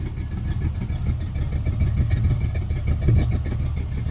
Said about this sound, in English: It's idling at about 400 RPM.